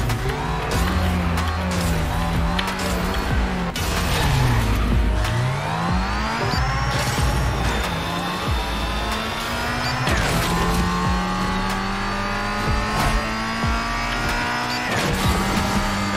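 A Ford Fiesta race car in the video game Asphalt Street Storm Racing revs hard through rising and falling engine whine as it shifts gears, with tire squeals and other cars passing, loud and continuous.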